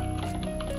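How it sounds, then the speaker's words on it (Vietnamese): A planted bomb ticks in the shooter game CrossFire, a steady, quick run of faint ticks over game background noise. "Bom kìa, bom kìa."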